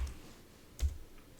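Keys tapped on a computer keyboard while entering a system update command in a Linux terminal: a few soft, scattered clicks with one sharper keystroke near the middle, close and quiet with no talking.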